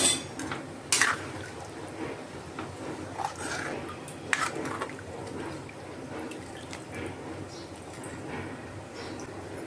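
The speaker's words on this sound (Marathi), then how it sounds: "आता आपल्या ह्याच्यामध्ये ना गरजेनुसार पाणी टाकायचं" Water is poured into a pot of prawn curry in a home kitchen, a faint liquid trickle broken by a few sharp clinks of a utensil against the pot.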